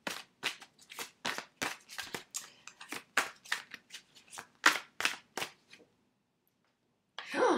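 Oracle cards are shuffled and drawn by hand at close range, producing a rapid series of crisp riffling flicks and snaps for about six seconds, then a pause and a final rustle.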